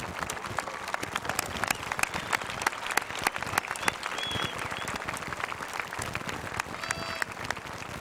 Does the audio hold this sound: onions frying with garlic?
no